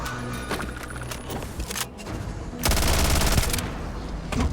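Kalashnikov rifle fire in the sci-fi game Starfield, with scattered shots early on and then a loud, dense automatic burst that rattles on for over a second before stopping, followed by one more sharp shot.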